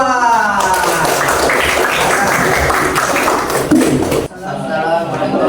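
A classroom group applauds a student team during a teaching-practice session, dense clapping rising quickly and sustained for a few seconds before cutting off, with voices mixed in.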